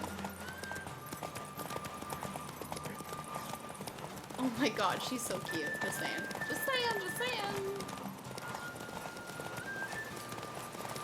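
Hooves clip-clop at a gallop while a horse whinnies in the video game The Witcher 3, with a person talking over the sound throughout.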